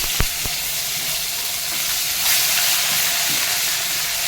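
Chilli, cumin and garlic spluttering in hot oil: a couple of sharp pops at the start, then a constant close hiss and sizzle that swells slightly midway.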